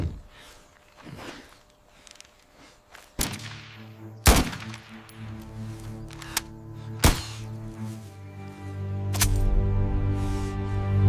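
Four sharp, loud blasts in gunfire fashion ring out at irregular intervals over a busy jungle scene with footsteps and shuffling movement, each crack trailing off into a ringing decay.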